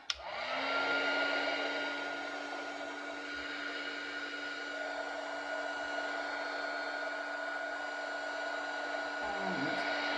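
A hair dryer blows steadily at close range while drying watercolour-painted handmade paper flowers, a constant whooshing hum that starts with a click and holds level throughout, ending with a slight shift in tone.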